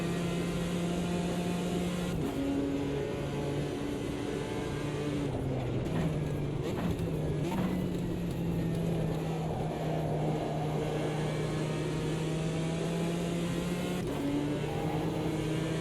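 GT4 race cars, including a McLaren 570 and a Ginetta G55, drone steadily at Monza in Automobilista 2, a sustained engine hum with shifting pitch and gear changes running throughout, fairly distant and even in level.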